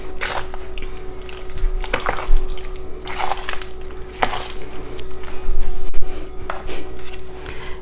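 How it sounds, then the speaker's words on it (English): Spoon stirring fresh cherries with flour in a bowl for a cherry crumb pie filling, giving repeated wet squishing and sticky liquid clicks in an uneven rhythm, close and fairly quiet. "I stirred down to the bottom to make sure all the flour was incorporated"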